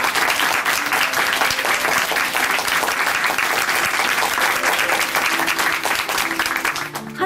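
A studio audience on a Christian testimony program gives loud, sustained applause, many hands clapping in a thick continuous roar, with faint voices and a musical tone surfacing near the end.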